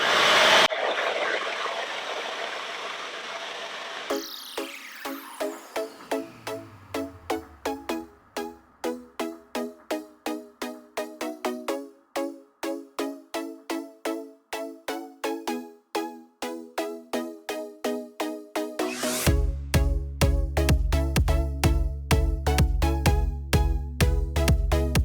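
A DevaCurl Devafuse diffuser hair dryer blows with a steady airy whoosh near the start, then gives way to a fast rhythmic pulsing pattern before roaring back loud and broadband for the last few seconds.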